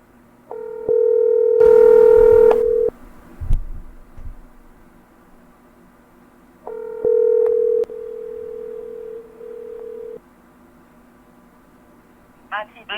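A landline call with steady dial tones and ringback bursts sounding twice, loud and clear, with faint background voices and a brief click near the end before voicemail picks up.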